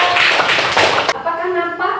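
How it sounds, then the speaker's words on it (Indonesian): A class of students in a lesson claps together in a short burst of brisk, overlapping claps lasting about a second, followed at once by a teacher's voice speaking. "Tepuk tangan."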